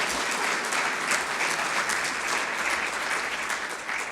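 A church congregation gives loud, dense applause as an offering during a sermon. The clapping is steady and sustained throughout, with no voice over it.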